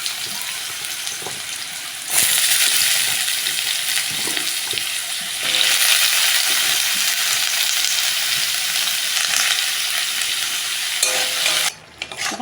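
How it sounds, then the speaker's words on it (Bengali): Pumpkin and potato pieces fry in hot oil, a loud continuous sizzle that surges sharply twice as ingredients hit the pan and are stirred, close and alone. "তেল আমার গরম হয়ে গেছে, এর মধ্যে দিয়ে দেবো ফোড়ন। এবার মিষ্টি কুমড়ো আলুটা দিয়ে দেবো।"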